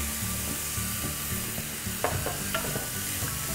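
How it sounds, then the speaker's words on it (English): Stirring a seasoned sesame toast mixture with salt, pepper powder and soy sauce, a steady scraping and stirring with a faint sizzle under background music, with a few sharper clicks near the end. "give it a good stir,"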